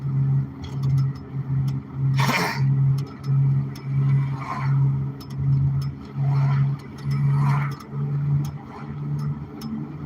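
Car driving on an evening ride home, a steady low engine drone pulsing rhythmically, with occasional brief louder whooshes over the road noise and no talk.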